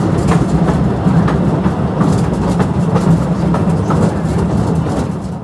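A small tourist train rolls through Postojna Cave in Slovenia, a steady dense rumble with faint rhythmic clatter running throughout, close and continuous with no talk.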